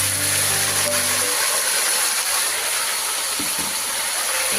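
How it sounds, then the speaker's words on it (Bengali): Onion, whole garlic, ginger paste and garlic paste frying in oil for a Bengali mutton curry: a loud, steady sizzling hiss throughout, with a brief tonal hum at the start. "পেঁয়াজ আর গোটা রসুন, আদা বাটা, রসুন বাটা হালকা, এগুলো সম্পূর্ণ আমি এখন ফ্রাই করে নেব"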